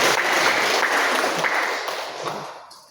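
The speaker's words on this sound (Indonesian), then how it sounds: "Boleh tepuk tangan untuk kita semua." A church congregation bursts into applause at a Thursday service, dense crowd clapping filling the room for nearly three seconds before tapering off near the end.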